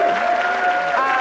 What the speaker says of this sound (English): How about a special round of applause?